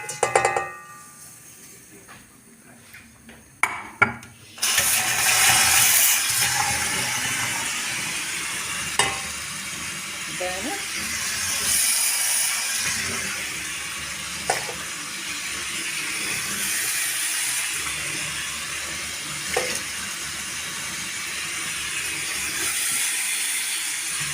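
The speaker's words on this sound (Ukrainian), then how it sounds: "Кипить, починає кипіти." Water bubbles and hisses in a pot, a steady simmering wash with a few clinks and knocks at the start.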